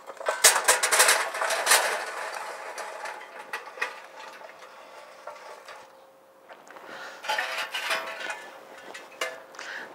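Preheated charcoal being loaded into the charcoal baskets of a grill: a run of close, rattling clinks and scraping clatter, busy at first, easing off mid-clip, then picking up again near the end, with no talking.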